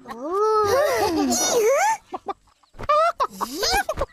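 A chicken clucks and squawks loudly up close in bursts, with a short pause between rising, warbling calls.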